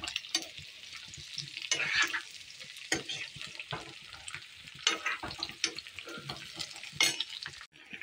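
Amla for pickle fries in very hot oil with a continuous crackling sizzle, broken by irregular scrapes and clatters of stirring in the pan.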